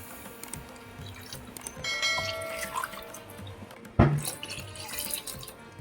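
Water pours into milk in a cooking pot for mango sheera, a splashing, gurgling stream rising midway, followed by a sharp metallic clank of the vessel and continued trickling, close by with no talking.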